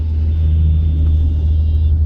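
Steady low rumble of road traffic at a junction, cars turning right toward the Arambagh route, a continuous engine drone with no speech.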